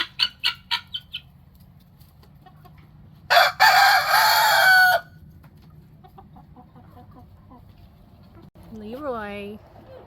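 A rooster on a farm crows once, loud and close, a harsh burst of a second and a half after a few short clucks, with a softer rising call near the end over a low steady background.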